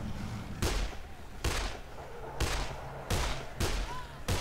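Gunfire in the zombie game Dead Island, with five sharp, loud shots spaced roughly a second apart, each a broadband crack over a low murmur of game ambience.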